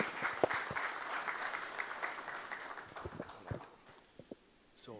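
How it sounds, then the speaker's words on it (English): An audience at an Energy Conservation Day award celebration claps together, a dense spread of applause that thins and trails off into a few scattered claps near the end, moderately loud, no talking. "Give one round of applause for all the entries."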